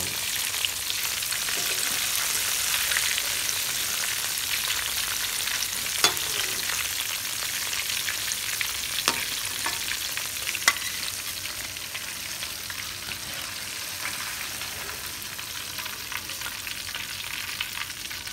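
Albaik-style broast chicken deep frying in hot oil, a steady, continuous sizzle that holds at an even level throughout with no voices, broken by a few sharp clicks and knocks.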